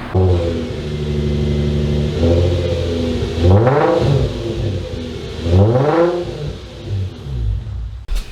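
Infiniti G35 engine idling in a garage, with two short throttle blips that rise and fall back to a steady rumbling idle, close and loud.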